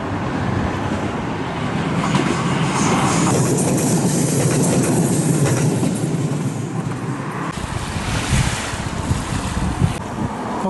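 A train on the single-track Kure Line in Saka, Hiroshima rumbles past at close range, a steady heavy roar with wind buffeting the microphone, its tone shifting as the cars go by.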